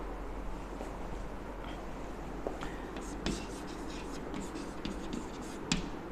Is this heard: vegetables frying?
no